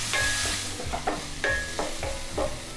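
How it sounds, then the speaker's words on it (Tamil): A tomato sautés with salt in a pan, sizzling steadily while a spoon stirs in a rhythmic scraping pattern. It is close and continuous, with no talk. "ஒரே ஒரு தக்காளி, கொஞ்சம் உப்பு சேர்த்துக்கலாம். தக்காளி நல்லா வதங்கட்டும்."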